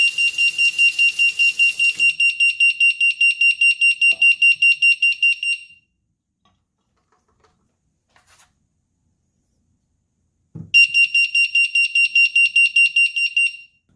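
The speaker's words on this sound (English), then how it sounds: "quickly you'll hear this really loud beeping noise" A Fosmon water sensor alarm set off by running tap water in a sink emits rapid, piercing high-pitched beeps in a fast pulsing train, stopping for several seconds before sounding again loudly.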